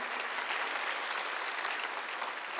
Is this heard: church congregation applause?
yes